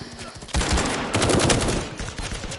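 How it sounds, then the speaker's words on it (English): Gunfire in Firewall Zero Hour played in PSVR, a dense burst of rapid shots starting suddenly and running loud and continuous, with a brief dip and then more sustained firing. "I'm shooting him and he's not"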